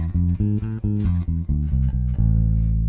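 Bass guitar playing an A harmonic minor scale as a quick run of distinct, deep plucked notes one after another, ending on a held note, close and clear with no talking.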